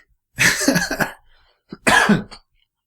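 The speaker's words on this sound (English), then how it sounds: "I'm coughing" Two bursts of loud, close coughing from a person, a longer harsh fit followed by a short pause, a small cough, then another strong cough, in a quiet room.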